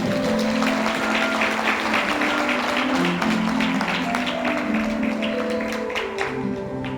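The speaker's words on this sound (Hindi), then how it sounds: "तालियां बजाकर महिमा करो।" A church congregation claps together in praise, producing a sustained, dense patter of hands, while music or sung tones hum beneath.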